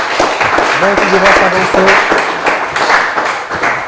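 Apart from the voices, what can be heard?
audience applauding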